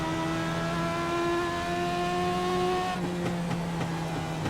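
A race car engine at Langley Speedway drones at a steady high pitch, then shifts into rougher, throaty acceleration as the throttle is picked up. Heard close and loud throughout, with no talk.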